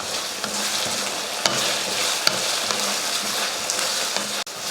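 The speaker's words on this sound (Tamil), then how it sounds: "இப்போ இதை வதக்கிடுவோம்." Tomatoes and potatoes sautéing in a pan, a steady close sizzle with repeated stirring scrapes and occasional sharp clinks of the spoon against the pan, no talking.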